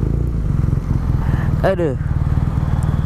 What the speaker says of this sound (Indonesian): Ada banyak moge di sini.